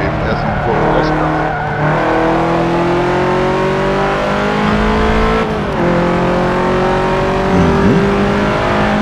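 A Subaru WRX racing the Nordschleife in Forza Motorsport 7, its engine loud and close, revving and shifting repeatedly with brief tire squeal, while people talk over it.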